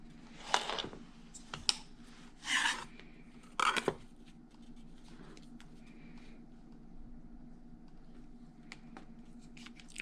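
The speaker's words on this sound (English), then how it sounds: "I'm using the block lock ruler to trim, and I'm going to trim all 4 sides here" Rotary cutter trimming the edges of a quilt block along a Bloc Loc ruler: a few short, crisp cutting bursts near the start, then a quiet steady background hum.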